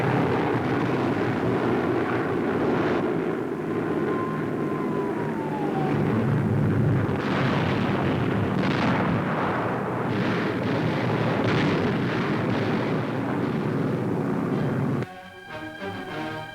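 Heavy, continuous rumble of Allied aerial bombs exploding in a 1943 wartime newsreel, a dense, roaring wall of blasts with a faint falling aircraft whine, ending in a brief crackling break.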